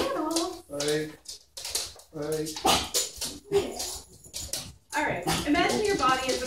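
Lhasa Apso dogs barking and whimpering nearby in a series of sharp, high yips and short barks separated by brief pauses.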